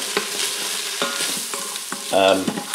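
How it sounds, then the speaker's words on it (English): Vegetables with spices sautéed in the pot of an Instant Pot, a soft sizzle under repeated spoon strokes that scrape and tap the pot, ending in a brighter metallic clank, close by. "We're going to saute in the pan itself, and the vegetables will sweat a little bit"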